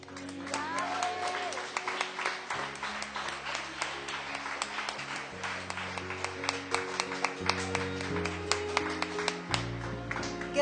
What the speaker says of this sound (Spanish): con un fuerte aplauso les decimos